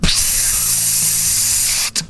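A spray can releasing a steady, loud, close hiss that runs almost continuously before cutting off abruptly, followed by a brief second burst.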